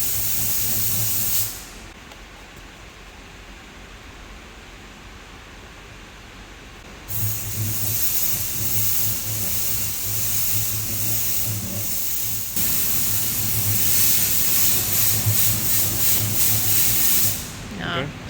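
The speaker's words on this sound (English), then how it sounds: "I will use air pressure from the inside of the spindle to see whether that causes any disturbance in the powder" Compressed air blasts into the inside of a cracked final drive spindle from a CAT 793 mining truck, a loud steady hiss that starts, stops for a few seconds, then returns and keeps going strongly.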